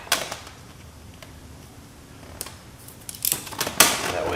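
Knife or blade making a relief cut in vinyl wrap on a 2015-2017 Subaru Outback front bumper, a few faint scratchy snips and sharp crinkling clicks, growing busier near the end.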